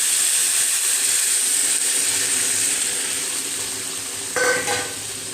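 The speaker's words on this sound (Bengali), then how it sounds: "এখন আমি এটার মধ্যে কিছুটা জল দিয়ে দিচ্ছি।" Moong posto frying in oil with water added, a continuous loud sizzle and hiss with stirring, then a brief sharper burst of sizzling near the end.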